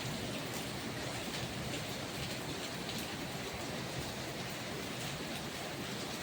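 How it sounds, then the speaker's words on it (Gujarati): Steady rain pours down in a dense, unbroken hiss, constant in loudness throughout, with no voices. "આટલો પવન છે અને વરસાદ છે"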